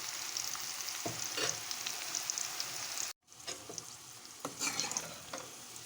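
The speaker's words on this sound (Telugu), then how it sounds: "మధ్యలో ఒకసారి కలుపుకుంటూ ఫ్రై చేసుకోవాలి." Pieces of bitter gourd coated in turmeric fry over a medium flame with a steady hiss, and now and then a spatula stirs and scrapes them. The sound cuts out briefly in the middle.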